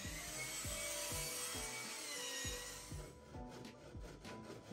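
Wooden boat frames are shaped by hand with a rasp or plane, producing a rapid series of rhythmic scraping strokes that are close and fairly quiet and then grow lighter and softer toward the end.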